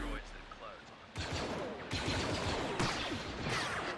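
Rapid blaster fire batters an AV-7 gunship in a Star Wars battle game, a dense crackle of shots with heavier impacts that swell in waves, loud and close, with a voice speaking over it.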